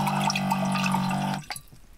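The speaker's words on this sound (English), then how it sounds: "And I'm gonna fill it with some water." Water running from a tap into a pot inside a converted Camaro car camper, a steady pouring stream with a rising tone that stops abruptly, leaving a few faint drips.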